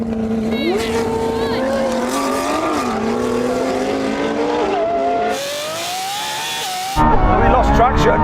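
A Koenigsegg Jesko, a Lamborghini Revuelto and a 1,000hp BMW M3 launch in a drag race, engines rising loudly through gear changes with a sustained high-revving roar, a brief drop, then a sudden loud burst near the end.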